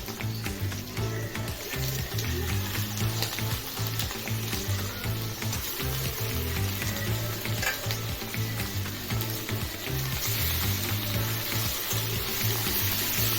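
Chicken frying in a pan over lightly browned onions, a steady loud sizzle with stirring scrapes that carries on throughout without talk.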